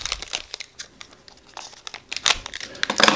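Sports card pack wrapper being cut open, a close series of sharp crinkling snips and rustles of foil plastic, bursty and irregular, growing busier toward the end.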